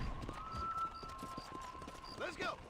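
Horse hooves clip-clop steadily in Red Dead Redemption, a quiet rhythmic beat set well back under people chatting over it.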